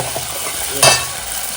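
Schezwan chutney frying in hot oil in a home kitchen, a steady close sizzle with one louder burst of spattering about halfway through.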